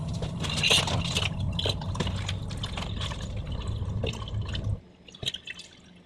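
Water runs and trickles from a battery-powered reverse osmosis filter into a jar, a steady splashing flow that stops abruptly near the end, leaving a few faint isolated drips.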